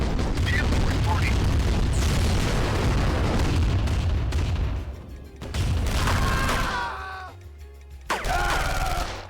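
Heavy booming blasts and rumbling explosions from a Command & Conquer game battle, with an ion cannon strike, dense and loud for several seconds, then trailing bursts with tonal game voice lines over them.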